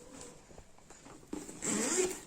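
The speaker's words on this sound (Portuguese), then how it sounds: "Zíper, 2 zíper pra abrir." A zipper on a sublimated toiletry bag with a clear visor panel rasps open, first in short soft tugs, then in one louder, steady pull close to the listener, with no talk over it.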